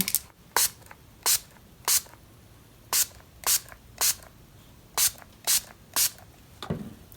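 Repeated short hissing bursts of makeup setting spray misted onto the face, about a dozen quick pumps in an uneven rhythm, close and crisp with no voice.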